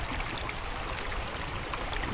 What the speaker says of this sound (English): He's just gonna really quick rinse them off in the hole and then get all the dirt out